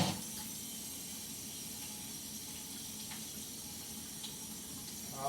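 Water running steadily from a tap into a sink while a face mask is washed off, a continuous close hiss with faint splashes and no talking.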